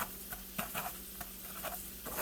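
Zucchini slice shaken in a bowl of breadcrumbs, soft scattered patters and light rustling taps in quick irregular bursts, close and faint.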